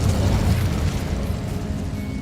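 Incendio fire spell cast in Hogwarts Legacy, a loud whooshing burst of flame with a deep rumble that opens strongly and then settles into a softer crackling roar.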